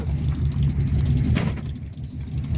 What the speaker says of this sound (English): it's idling a little better